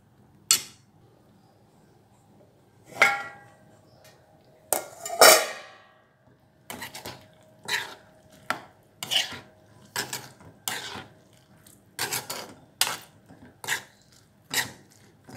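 Lid lifted off a pan of brinjal thokku and a spoon stirring it: a few sharp metallic clanks, then a run of regular scraping strokes against the pan, close and distinct against near silence.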